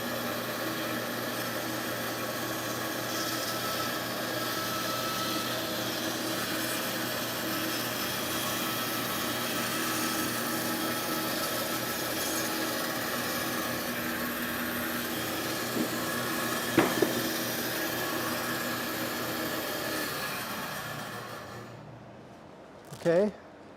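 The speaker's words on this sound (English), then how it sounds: "I think I'm gonna trim it again to get a little straighter edge" A sawmill trims a rare log to straighten its edge, a steady droning whine of motor and blade running continuously, close and even, with a couple of brief knocks near the end before it winds down.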